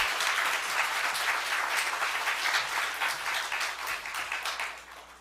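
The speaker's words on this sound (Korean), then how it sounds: "우리 목사님 나오실 때 우리 박수로 맞아주십시오." A church congregation at a pastor's installation service claps to welcome the pastor, a steady, dense round of applause that holds evenly and then tapers off near the end, with no talk over it.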